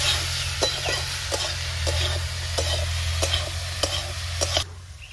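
Banana flower (mocha) fries in a pan. A constant close sizzle and low hum sit under a regular series of spatula scrapes and taps, and the sound drops away quietly at the end with no speech.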